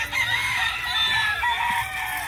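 Gamecocks bred for fighting fill a yard with steady, overlapping crowing and clucking. Several birds call at once in a close, loud chorus with no clear pauses.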